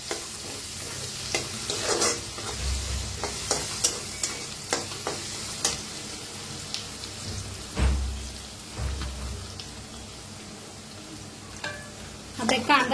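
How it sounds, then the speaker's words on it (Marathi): Onion frying in oil in a pan for a dal-style mataki sambar, a steady close sizzle with intermittent stirring clatters and scrapes throughout, no talking. "तर छान असा कांदा भाजून घ्यायचा।"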